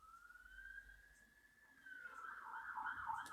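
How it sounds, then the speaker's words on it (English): A passing emergency vehicle siren, a faint distant wail that rises and holds, then grows louder and rougher as it nears. "Oh, there's another siren coming."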